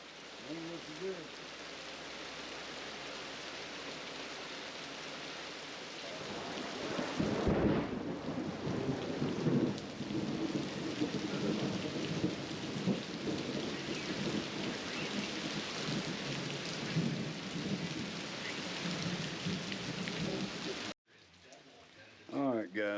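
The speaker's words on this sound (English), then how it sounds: "well it ain't gonna quit raining evidently." Steady heavy rain with rumbling thunder outside an off-grid cabin under construction, a dense continuous wash that swells louder partway through and runs for most of the stretch before cutting off abruptly.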